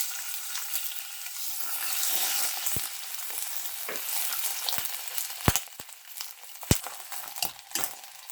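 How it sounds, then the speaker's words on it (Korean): Green onion stir-frying in a spoonful of grapeseed oil in a hot frying pan, a loud continuous crackling sizzle with sharp utensil clicks and scrapes near the end, close up and free of speech. "달궈진 후라이팬에 포도씨유 한 숟갈 정도를 두르시고 대파를 먼저 볶아주겠습니다."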